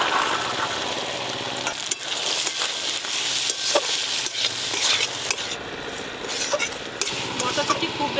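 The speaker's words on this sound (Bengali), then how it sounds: "মশলার সাথেই মটরশুঁটি নাড়তে নাড়তেই সিদ্ধ হয়ে গেছে" Green peas stir-fried with spices in a pan, with a steady close sizzle and repeated scraping and clattering of the spatula as the mixture is stirred continuously.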